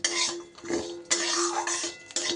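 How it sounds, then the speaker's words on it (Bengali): A few cashews stirred with raw rice dry-roasting in a pan on a gas stove give repeated close scraping and rattling strokes, each sweep a short burst, with no talk. "কাজুটাও একটু হালকা করে এইভাবে নেড়ে নেব"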